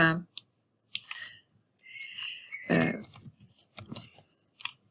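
A computer mouse gives scattered sharp clicks, singly and in quick bursts, close and crisp, with brief voice sounds in between.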